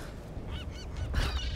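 Seagull-like bird calls in the Tomb Raider game, a few short honking squawks close by over a low ambient rumble, with no voices.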